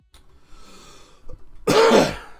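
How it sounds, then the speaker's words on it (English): A person blows their nose in one loud, close, forceful burst near the end, after a quieter stretch of sniffing and small breathy noises. "I'm gonna blow my nose real fast again."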